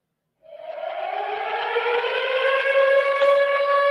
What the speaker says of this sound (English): Blackhawks always play a siren before puck drop.